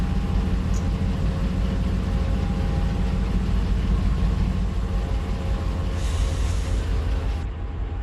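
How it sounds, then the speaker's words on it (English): Locomotive diesel engine in the Run 8 Train Simulator game, heard through an open back door of the cab as a loud, steady low drone with a rhythmic throb and a short hiss near the end. "That back door let in a lot of engine sound."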